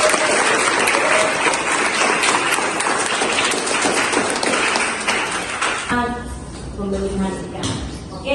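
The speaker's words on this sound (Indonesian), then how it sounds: "Tepuk tangan." A loud burst of applause from a group, dense clapping that fills several seconds before thinning out as voices begin to talk.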